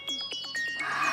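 A phone ringtone plays a quick run of bright electronic notes, brief and fairly faint, ending in a sustained higher tone.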